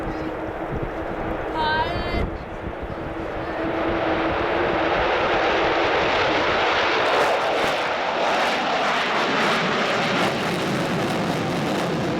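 An Avro Vulcan XH558 jet bomber performs a flying display at RIAT 2015, its engine roar building to a loud, sustained rushing thunder that fills the air as it passes.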